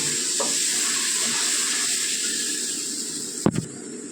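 Water splashes into a hot pan of cauliflower cooking with salt and turmeric, setting off a loud, steady hiss of sizzling that ends with a brief clatter of utensil against pan.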